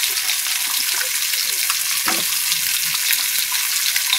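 Potatoes dropped into spiced masala sizzle and fry in a pan with a little water, a steady loud crackle with brief stirring clatter, no voices.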